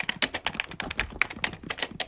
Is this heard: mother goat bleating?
no